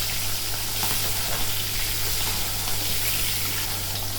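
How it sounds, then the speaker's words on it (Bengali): Pieces of bata fish fry in hot oil in a wok, a dense, loud, continuous sizzle that crackles steadily up close without any talking. "নিয়ে একে একে মাছগুলোকে এপিট ওপিট একটু লাল লাল করে ভেজে নিলাম।"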